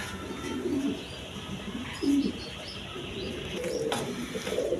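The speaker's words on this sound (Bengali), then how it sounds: "এখানে এক পেয়ার কবুতর আছে গোপালগঞ্জের পায়রা দেখেন দুটা নর কবুতর" A pair of male Gopalganj pigeons coos at a pigeon seller's, giving three or four soft, throaty bursts spaced a second or two apart over quiet background noise.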